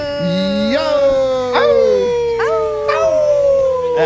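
A man imitates a dog with a long, wavering howl that slides up and down in pitch, loud and close, in a sports talk show studio.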